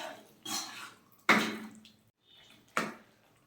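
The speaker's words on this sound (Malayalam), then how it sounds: "ഇനി നമുക്ക് കുറച്ച് വെള്ളം കൂടി ഒഴിച്ച് ഒരു 10-15 മിനിറ്റ് നന്നായിട്ടൊന്ന് വേവിച്ചെടുക്കാം." Water poured into a simmering chicken mughlai curry in three short splashing bursts, the middle one sharpest, separated by brief quiet gaps, close and fairly clear.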